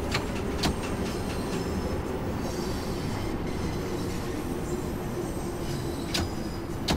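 A London Underground Bakerloo Line train runs steadily in the Train Sim World 2 simulator, a constant rumbling drone of wheels and motors with occasional sharp clicks and faint squeals, with no talk over it.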